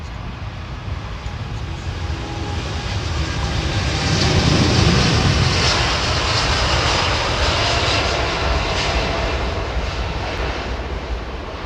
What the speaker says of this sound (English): That's a proper run from a Dreamliner.